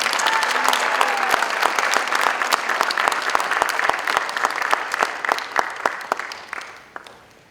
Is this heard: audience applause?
yes